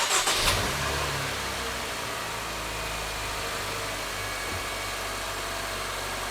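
A Honda Civic 1.4 engine, fitted with a voltmeter on the battery after an alternator change, cranks briefly and catches, then settles into a steady, close running idle.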